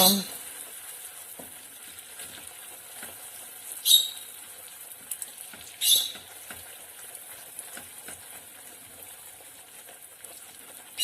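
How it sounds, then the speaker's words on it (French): Butter stirred into caramel in a pan makes a quiet bubbling sizzle with several sharp squeaky scrapes of the spoon against the pan at intervals. "on touille jusqu'à ce que le beurre il soit bien mélangé"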